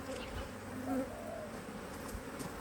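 Honeybees in a queenless hive buzz close and steady during an early spring hive inspection, a dense humming drone with brief louder swells, no talk.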